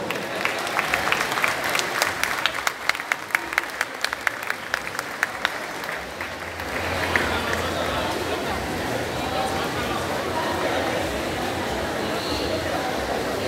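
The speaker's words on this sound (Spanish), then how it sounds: "un fuerte aplauso" Enthusiastic applause from a sizable crowd at a queen's coronation and prize ceremony at the Feria de Todos los Santos in Colima, loud and steady, with sharp individual claps early on before settling into a dense wash of clapping.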